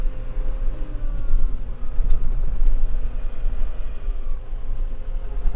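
A John Deere 6320 tractor drives off after repair in high gear, its diesel engine a steady, close, continuous rumble with a few brief rattles and no talk.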